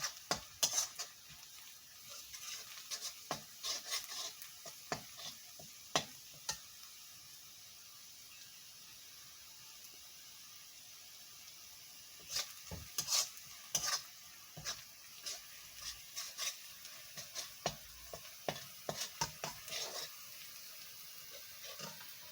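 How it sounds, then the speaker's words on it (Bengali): Onions sizzle steadily in a pan, with scattered clicks and scrapes of stirring that cluster near the start and again toward the end. "আমার পেঁয়াজ একটু ভাজা ভাজা হয়ে আসছে"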